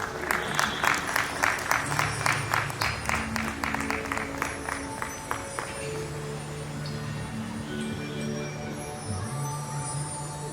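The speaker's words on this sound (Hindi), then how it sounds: "स्नेहा के लिए तालियां।" Audience applause at a blessing gathering in Jodhpur, starting as crisp rhythmic clapping in unison that then loosens into a softer, scattered patter under a low hum, with a faint voice near the end.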